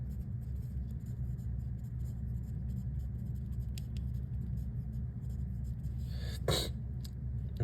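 A pen scratches out diagrams of ethane molecules (C2H6) and their lattice structure, faint strokes under a steady low hum, with a brighter scrape near the end.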